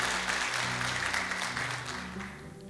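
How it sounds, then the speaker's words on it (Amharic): An audience applauds at a book talk on money, a steady wash of clapping that holds for nearly three seconds and then begins to fade, with no one speaking over it. "አጨብጭቡለት።"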